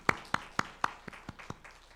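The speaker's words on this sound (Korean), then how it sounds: "하나님께 영광의 박수를 돌리겠습니다." Slow, evenly spaced hand claps during a church service, about eight sharp single claps in a steady rhythm that fade from moderately loud to softer, with no talking.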